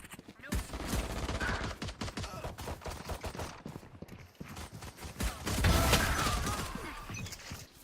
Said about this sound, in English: Who's shooting me from the right, bro?